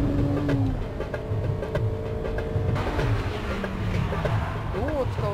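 A Honda Civic Type R EK9 is driven on the Suzuka circuit with a steady engine drone and shifting tonal whine, while a voice talks over the car throughout.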